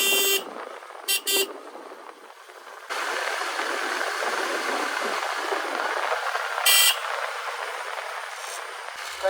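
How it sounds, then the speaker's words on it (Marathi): Vehicle horn on a winding mountain road to Badrinath, heard from a Bajaj motorcycle: a short double beep and then a single horn blast later on, over steady wind and road rumble. "कंटिन्यू कोपऱ्याला हॉर्न वाजवायला लागतोय"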